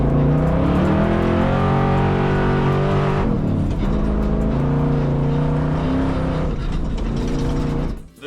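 A loud, deep engine in a modified Toyota Tacoma pickup revs hard and holds, drops briefly, then roars up again before cutting off abruptly at the end.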